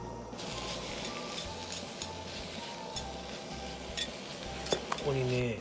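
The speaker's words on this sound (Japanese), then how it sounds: "ホルモン野菜炒め。" Offal (horumon) and vegetables stir-fry in a pan at a solo camp set up on a balcony, with a steady sizzle under repeated scraping and clinking of utensils, plus a few sharper clanks near the end.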